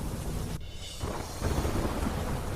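Heavy monsoon rain in Songadh, Gujarat pours in a dense, steady hiss with a low rumbling undertone, briefly dipping after the first half-second before resuming at full strength.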